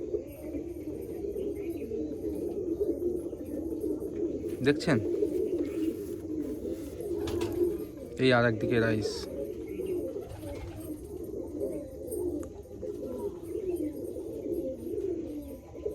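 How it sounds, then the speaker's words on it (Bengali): Pigeons cooing steadily at a sale spot in Baruipur near Kalyanpur rail station, a low continuous burbling close by, with someone talking over it throughout. "কত সুন্দর পায়রাটা দেখুন শুধু বন্ধুরা"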